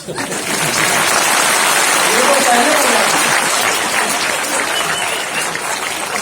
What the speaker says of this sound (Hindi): एक बार हमारे साथ ताली बजाइए।